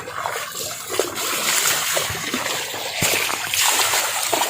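Water runs and splashes continuously in a clear stream, with a steady trickling rush and occasional sharper splashes close by.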